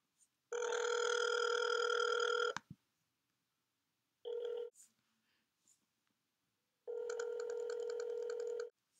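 Phone ringback tone on an outgoing call placed from a private number, a steady buzzing ring heard three times with gaps between, alone without voices.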